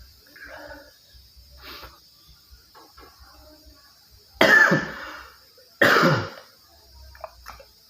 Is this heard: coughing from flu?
yes